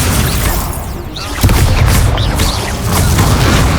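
Incendio fire spell cast in the Hogwarts Legacy video game, a dense burst of crackling impact and blast sound that swells near the middle and stays loud amid ongoing battle noise.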